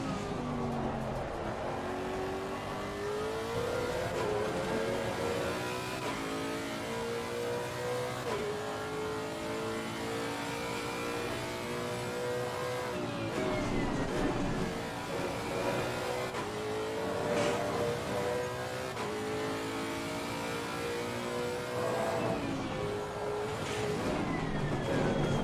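A Lexus RC F GT race car at Imola in Assetto Corsa Competizione, its engine revving hard and shifting through gears continuously, with repeated rising and falling pitch and occasional tire noise.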